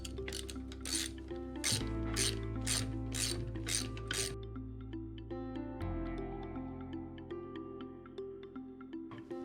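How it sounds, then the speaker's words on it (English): A 9/16 wrench ratcheting while loosening bolts on a Hayward pump motor housing, with a quick series of sharp clicking strokes followed by slower grinding turns, close and fairly quiet. "we're going to use our 9/16 wrench to loosen up the bolts"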